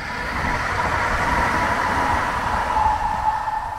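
A tram rumbles past nearby in Lindingö, Stockholm, with a steady low roar and faint metallic squeal, holding a constant loudness throughout.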